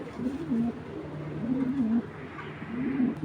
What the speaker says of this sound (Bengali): কবুতর দুইটা একটু দেখায় আপনাদের